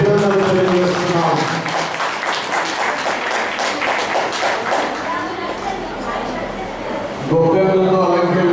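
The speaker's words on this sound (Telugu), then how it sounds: "గట్టిగా చప్పట్లు కొట్టి అభినందనలు తెలియజేస్తున్నాం" An audience applauding participants of a rangoli contest, a continuous burst of clapping from a gathered crowd, with a voice speaking over the start and the end.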